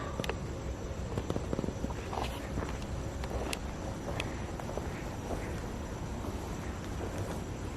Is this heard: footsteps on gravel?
yes